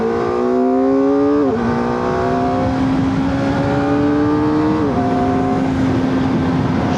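A 2025 Kawasaki ZX-4RR motorcycle engine revs hard and accelerates up through the gears, a loud, close, high-pitched scream that dips briefly at each shift before climbing again.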